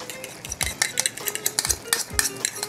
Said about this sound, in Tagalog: Tapos haluin nyo lang ng konti.